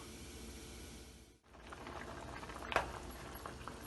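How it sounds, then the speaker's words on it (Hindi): Chicken drumsticks simmer in their own released juices in a pan, a steady low bubbling and soft patter that briefly drops out, then returns with a sharp sizzle pop near the end. "चिकन पक रही है और चिकन ने अपना पानी भी छोड़ा है इसमें"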